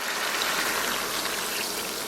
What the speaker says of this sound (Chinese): 咱们给里边添点水